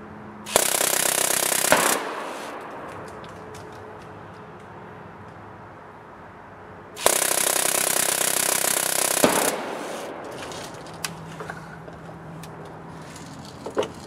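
A Drozd Blackbird airsoft BB gun on a magazine motor test fires two long full-auto bursts of rapid buzzing shots, each about two seconds, separated by quiet outdoor pause with faint clicks and impacts afterward.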